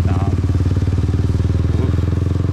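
Motorcycle engines on a busy street in Saigon's District 7, Vietnam, a steady close rumble and throttle drone from passing bikes, loud and continuous with no talk.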